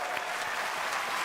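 Dense applause from a large audience at the Google I/O conference, many hands clapping together in a steady, close, full burst.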